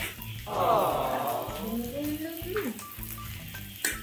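Food sizzles and fries steadily in a pan while someone cooks, with a swell of frying noise early on and voices talking over it.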